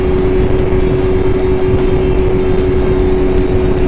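A 2020 BMW S1000RR engine spins at high RPM in race mode, a dense, steady drone with a sustained whining tone, close and loud on a ride.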